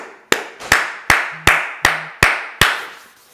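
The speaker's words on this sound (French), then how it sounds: "Est-ce qu'on peut acclamer pour la gloire du Seigneur?" A church congregation claps in unison, seven sharp, evenly spaced claps ringing through a reverberant hall. Each clap fades before the next one lands.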